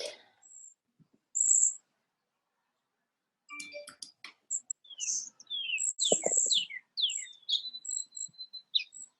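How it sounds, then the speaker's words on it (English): Birds sing in short, high chirps and trills, sparse at first and then busier, with a couple of soft clicks and quiet pauses between calls. "I love the bird sounds."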